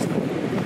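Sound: strong wind blowing

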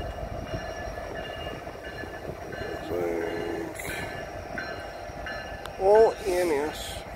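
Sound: Norfolk Southern freight train 153 arriving, SD70ACE locomotive leading

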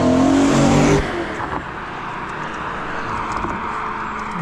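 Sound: car revving as it drives past

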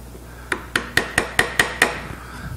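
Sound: wood chisel cleaning up a joint end

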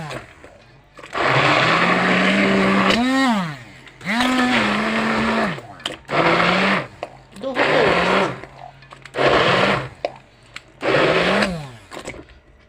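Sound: hand blender blending food

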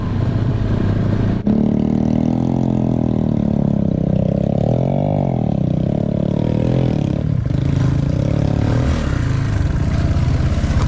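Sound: motorcycle engine running

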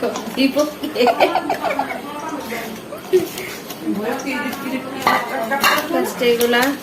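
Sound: mixing Lay's chips by hand in a bowl

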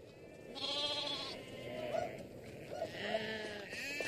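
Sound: sheep bleating

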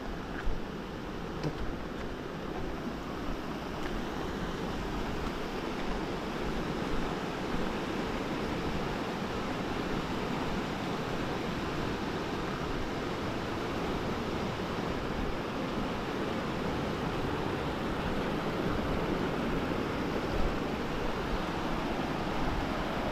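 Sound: flooded river water rushing after heavy rain

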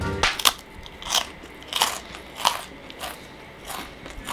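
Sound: chewing crunchy snack

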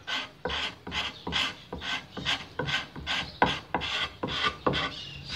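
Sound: erasing pencil marks on wood

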